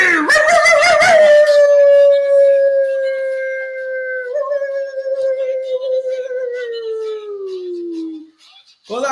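Dogs howl in a long, sliding wail that slowly falls in pitch, loud and close, with a brief yip and whimper at the start and a short pause near the end.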